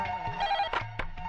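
A telephone rings in a short electronic trill, repeating a couple of times clearly and close, alone without speech.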